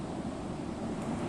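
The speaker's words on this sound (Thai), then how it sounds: "มีเสียงลมมาแล้ว" Wind gusts through a leafless forest in a horror video game, a faint, steady, low rush with a hollow, surf-like texture and no voices.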